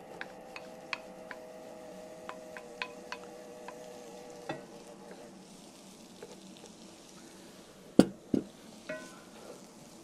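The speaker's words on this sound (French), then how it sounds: "je fais brunir un oignon et demi quelques minutes dans une poêle en fonte avec juste un petit peu de beurre" A cast iron pan heated on an induction hob has one and a half onions browning in a little butter, giving a steady low sizzle with scattered ticks and stirring clatter, and two louder knocks near the end.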